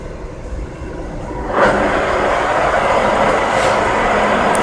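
An engine lathe is switched on: a quieter hum for the first moments, then a sudden louder, steady broadband whir that holds evenly as the machine runs up to speed, with no talking.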